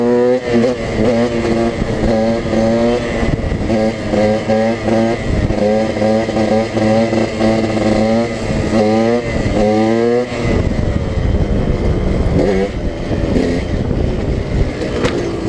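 A dirt bike rides along a flooded road on a summer day, its engine revving loud and close in repeated rising and falling surges, rough and steady throughout.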